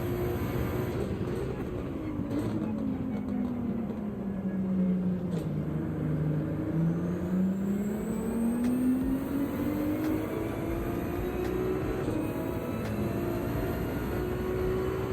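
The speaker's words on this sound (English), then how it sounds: "The engine on this Ferrari sounds lovely." A Ferrari engine in the Gran Turismo 7 racing game drones steadily throughout, its pitch sweeping down and back up through the gears, with a continuous mechanical hum and no talking.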